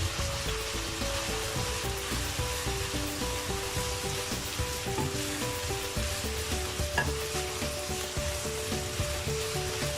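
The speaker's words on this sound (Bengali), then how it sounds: "সবজিগুলো আমি একটু ভেজে নেব। আমি অনবরত এভাবে নাড়তে থাকবো।" Winter vegetables including broccoli, fried for pulao, crackle in a constant dense sizzle in a pan, with light stirring scrapes mixed in at a steady level the whole time and no voices.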